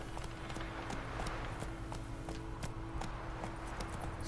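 A horse gallops in The Witcher 3: Wild Hunt: quiet, steady, rhythmic hoofbeats repeat evenly over a low background hum.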